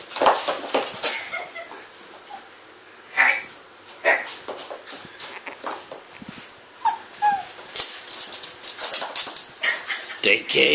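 Pet dog barking and whimpering in short bursts, close by, with people talking excitedly over and between the sounds.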